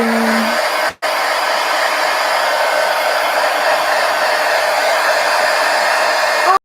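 Close, loud and steady, a hair dryer blows over wet paint in a mixed media art journal, its whooshing roar cutting out for a split second near the start and then resuming until it shuts off at the end.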